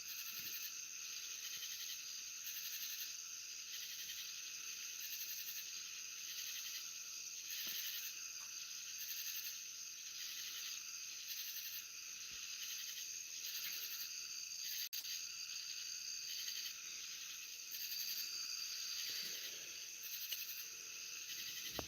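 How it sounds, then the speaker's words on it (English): Insects chirp outdoors on a dark night, a steady high-pitched trilling chorus with a pulsing rhythm that carries on unbroken throughout, with no voices. "there's a lot of bugs out there"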